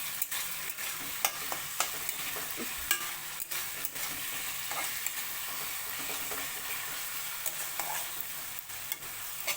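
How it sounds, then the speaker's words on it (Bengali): Potatoes seasoned with salt and turmeric fry in a pan with a soft, steady sizzle, punctuated by sharp, regular clicks and scrapes of a stirring utensil, close but fairly quiet, and no voices. "এটা খুব ভালো করে ভাজা হোক।"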